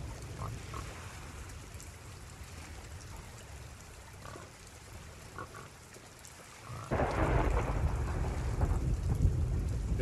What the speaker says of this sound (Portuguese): A tempestade tá chegando.